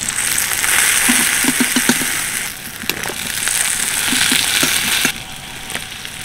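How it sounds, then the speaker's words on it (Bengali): Khaja pastries of flour dough frying in hot oil for a Rath Yatra sweet, a fairly loud hiss and crackle with a few sharp clatters of a spoon or pan, no voices. "বাকিগুলো আমার বেশ ভালোভাবে ভাজা হয়ে গেছে।"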